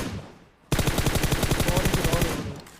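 Automatic gunfire in a video game battle royale shooter, a sudden long burst of rapid, evenly spaced loud shots that runs for about two seconds before tapering off.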